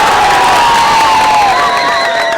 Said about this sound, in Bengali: এবারে আর্জেন্টিনা ওরা থাকলে তারা একটা হাততালি দেন দেখি